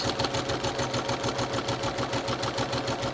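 Sewing machine stitching the lining of a fabric face mask, a steady rapid needle rhythm running continuously and close, with no talk over it.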